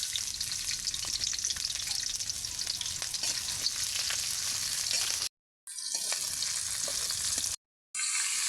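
Chopped chilies fry in hot oil in a wok, making a loud, dense, continuous sizzle with crackling specks. It cuts out briefly twice near the end and then resumes, and no one speaks.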